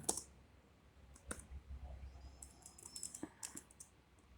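Typing on a computer keyboard while setting up an ESP32 temperature and humidity email alert, quiet close keystrokes in short uneven bursts with a few sharper clicks.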